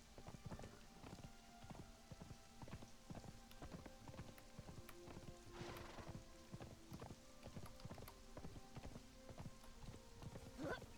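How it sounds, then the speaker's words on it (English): Horse hooves clip-clop in rapid, even rhythm through the video game Conan Exiles, a steady galloping beat with faint ambient game noise and a brief brighter rustle partway through. "Steer the horse, steer the horse."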